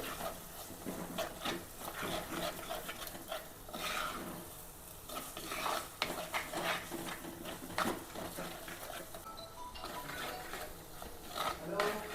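Ground masala paste with ginger is stirred and sautéed in a pan for beef vindaloo, giving soft, repeated scraping and rubbing sounds at low volume, with a voice faintly present.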